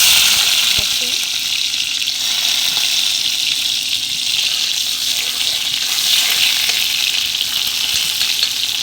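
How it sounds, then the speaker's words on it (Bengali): Onion frying in hot oil in a wok gives a steady, loud, unbroken sizzling hiss that carries through the whole stretch, with no clear voice over it. "কড়াইতে আমি তেল দিয়ে দিয়েছি আবার দিয়ে দিব পেঁয়াজ"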